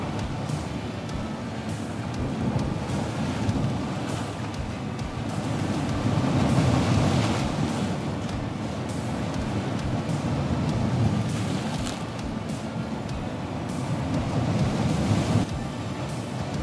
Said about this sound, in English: I'll let you listen and watch the waves for a little bit.